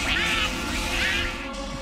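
A voice imitates a duck quacking for the cartoon character Pac-Man, giving two nasal, raspy quack-like bursts close to the microphone.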